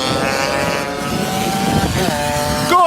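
Stock sidecar racing motorcycles at Lydden Hill chase each other uphill, several engines whining and shifting pitch as they pass, loud and fairly close, with an engine note climbing sharply at the end and crowd or commentary noise underneath.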